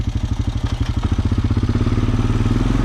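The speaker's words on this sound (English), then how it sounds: "whenever there's a piece of equipment or a four-wheeler running" A four-wheeler engine runs close by at a steady, loud, pulsing putter, its rapid rhythmic firing beats speeding up slightly and settling into a constant drone near a sunflower field.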